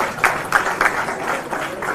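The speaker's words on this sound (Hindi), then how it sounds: "संजीव जी के लिए जोरदार तालियां बजाइए।" An audience applauds loudly at an evening tribute event for martyrs, producing a dense, steady wash of many hands clapping with rhythmic pulses throughout.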